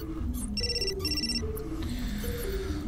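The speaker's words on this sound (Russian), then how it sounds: "Мой телефон." A mobile phone rings in the video game Still Life 2 with repeated electronic trill bursts over a low, droning musical background, fairly close and clear with no talking.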